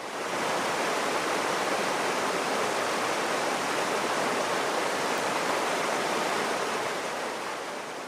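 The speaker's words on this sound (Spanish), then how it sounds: "El río es permanente lo mismo." A river flows steadily in a protected natural area, making a dense, even rushing wash that holds at the same level throughout with no voices.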